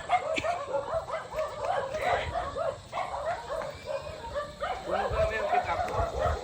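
Several dogs bark and yip repeatedly, overlapping in quick bursts, with some whimpering mixed in and an outdoor background.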